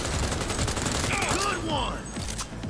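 Rapid gunfire from the Ricochet weapon in the Cyberpunk 2077 video game forms a dense, continuous fusillade of shots, with someone talking over the shooting throughout.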